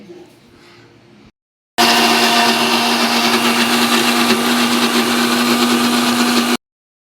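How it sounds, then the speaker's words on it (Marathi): A mixer grinder blends chicken masala, its motor whirring loud and unbroken for roughly five seconds after a short quiet pause, then shutting off abruptly. "मिक्सर फिरवून घेते।"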